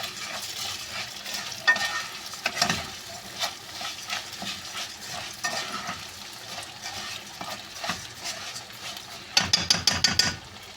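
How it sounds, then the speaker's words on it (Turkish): A spoon stirs bulgur and toasted orzo in a hot pan, scraping and clacking against the metal over a steady sizzle, ending in a quick run of sharp, rhythmic knocks. "Şöyle karıştıracağız"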